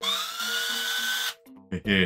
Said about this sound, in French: Ça c'est perceuse